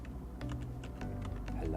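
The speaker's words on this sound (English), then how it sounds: "so I can go and type in something like print" Fast typing on a computer keyboard while working in a Python terminal on a Raspberry Pi over SSH, a quick run of clicking keystrokes close by, mixed under a person speaking.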